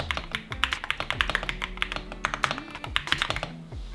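Typing on an MSI gaming keyboard with tactile switches: a steady run of crisp, close keystrokes with an irregular rhythm, with low background music and no talk.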